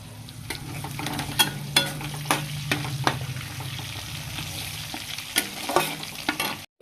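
Prawns fry in oil in a pan for a jackfruit and prawn curry, a steady crackling sizzle carrying on throughout, with sharper spatula scrapes and stirring knocks breaking in roughly every second; no talking.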